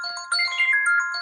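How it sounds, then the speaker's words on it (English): A mobile phone ringtone goes off in a room, a loud, bright electronic melody of ringing tones that swells after a brief quieter start and plays on its own. "that's my phone going off"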